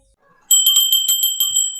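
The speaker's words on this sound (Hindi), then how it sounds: "घंटी मार रही हूँ" A small handheld bell rings close by in a home, struck in a quick run of about half a dozen bright, metallic dings after a moment of silence.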